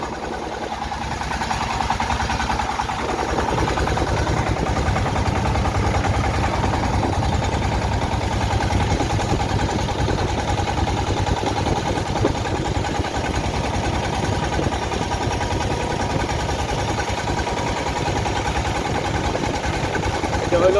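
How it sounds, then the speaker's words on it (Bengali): A boat's loud engine drones steadily while crossing the Meghna river near Bhairab, a close, continuous chugging throb lasting throughout, with some talk underneath. "ইঞ্জিনের বিকট শব্দ আছে"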